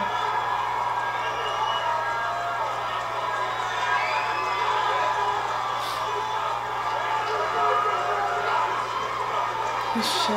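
A large wrestling arena crowd cheers and roars steadily for Roman Reigns, a dense sustained wall of noise with scattered whoops and shouts rising above it throughout.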